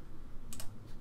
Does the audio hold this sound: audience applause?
no